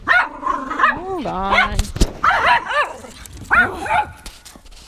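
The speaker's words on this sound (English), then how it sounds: "Vicious doggy." A pet dog indoors at home gives a few sharp barks and yips mixed with whimpering, close by, while a person speaks briefly.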